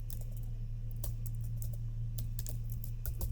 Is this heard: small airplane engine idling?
no